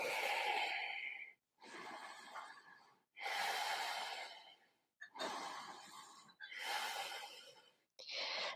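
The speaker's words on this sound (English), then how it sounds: "3 more deep breaths." Deep breathing during a yoga flow: slow, loud inhales and exhales close to the microphone, about six breaths in a steady rhythm separated by brief pauses.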